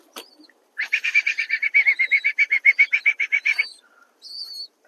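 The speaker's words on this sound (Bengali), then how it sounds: "এখন দেখুন কেমন করছে পায়রাগুলো দেখুন এখানে সব পায়রাগুলো" A quick, even run of about twenty shrill chirps from pigeons close by in a loft, then a short high squeak after a pause; no talking.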